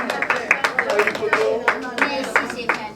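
Audience clapping at an awards evening, a short run of sharp claps repeated in a lively rhythm, close and clear, with a voice heard faintly beneath.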